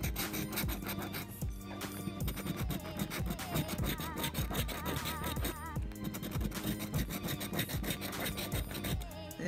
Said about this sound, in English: This ticket is scratching a lot better today.